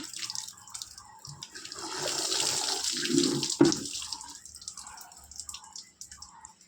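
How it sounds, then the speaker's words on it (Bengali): Water running and splashing during a morning bath at home, a soft stream swelling in the middle with a few sharper splashes and drips, fairly quiet and close, with faint voice traces. "স্নান করছি।"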